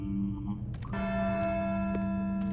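A bell in the Syberia 2 video game rings after a rope is pulled, giving a sustained tonal clang that carries on with a long, steady ring over background game sound.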